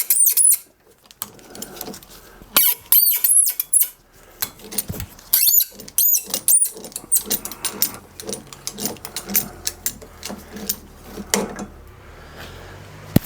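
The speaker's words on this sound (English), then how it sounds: "Having a little bit of creak and protest but it's going to come out." A seized stud on a steam waggon regulator creaks and squeaks as it is unscrewed, giving irregular ratcheting bursts and high metallic squeals, close and fairly loud, with short pauses between turns.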